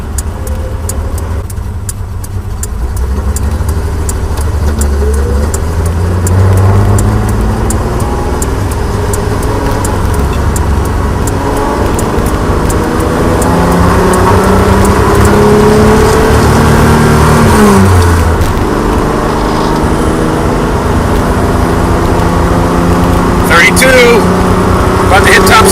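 A Datsun 240Z engine revving and pulling through gears in heavy traffic, with rising and falling engine tones heard from inside the car, loud and close, while someone talks over it.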